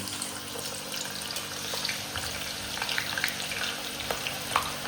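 Onion deep-frying in hot oil, a steady crackling sizzle with small pops scattered through it, heard close and alone.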